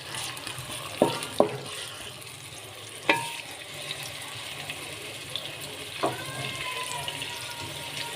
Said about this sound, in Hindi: कढ़ाई में मैंने प्याज डाल दिया है।